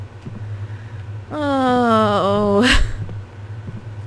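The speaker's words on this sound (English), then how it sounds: "Washing machine." A loud, droning mechanical hum in the Deathbloom video game, resembling a washing machine: a steady tone rising and slowly falling over a few seconds, ending in a brief burst, with a short exclamation over it.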